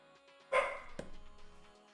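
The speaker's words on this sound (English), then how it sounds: "I don't know why Cora is up here barking." A single sharp Corgi bark followed by a short yip, fairly close, with a faint tonal background hum throughout.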